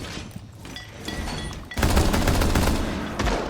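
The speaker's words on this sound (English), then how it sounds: "Is that the pistol I heard?" Rapid bursts of gunfire in Rainbow Six Siege, loud and dense from the midpoint onward after quieter background game sounds, with several overlapping impacts.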